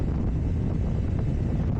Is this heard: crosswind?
yes